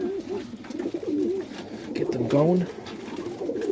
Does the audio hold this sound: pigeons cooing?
yes